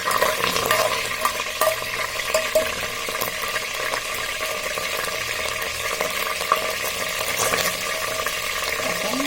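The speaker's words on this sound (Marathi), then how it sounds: "चला तर तेल टाकून दिलेलं आहे आता पण तेलपत्ता टाकून आहे" Curry leaves frying in hot oil while poha is prepared, giving a steady, close crackling sizzle with faint bubbling that runs without pause, with occasional light clinks from the pan.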